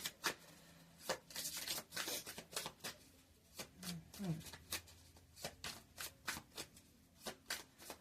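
A deck of oracle cards shuffled by hand, giving repeated crisp riffling and slapping bursts in a steady rhythm, close and fairly loud, with someone talking softly over it.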